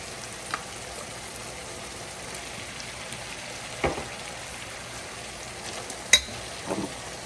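A potato patty filling with minced chicken sizzles and fries in a pan, a soft steady crackle broken by a few sharp clinks and scrapes of a spoon stirring.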